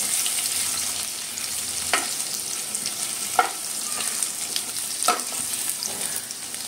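Crushed garlic frying in a hot pan until golden brown gives a steady, close hiss of oil, broken by three short scrapes of a spatula stirring it, with no talking.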